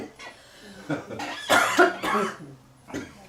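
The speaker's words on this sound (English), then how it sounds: "I have to cough again." A person coughs several times in quick bursts, close and fairly loud, with short quiet gaps between.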